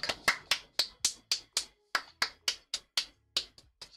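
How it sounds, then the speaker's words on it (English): A streamer clapping hands alone, about fourteen sharp, close claps in a fairly steady rhythm with brief silences between them and no talk. "You can hear me clapping."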